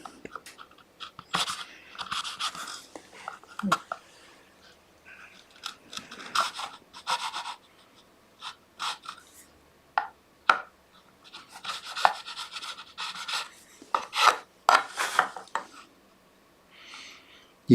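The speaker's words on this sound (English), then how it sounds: "with the edge of a sharp chisel, just take out that little bit of glue" A sharp chisel edge scrapes dried glue from a small dovetailed wooden box, producing short irregular scratchy strokes in quick bursts separated by quiet gaps, close and fairly soft.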